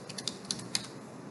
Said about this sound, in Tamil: மைக்ரோசாஃப்ட் அத்தன்டிகேட்டர் அப்படின்னு சொல்லிட்டு டைப் பண்ணுங்கள்.